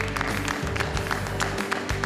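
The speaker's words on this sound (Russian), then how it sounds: "Аплодисменты." Audience applause at a singing competition results announcement, a steady wash of clapping from the crowd heard over sustained background music.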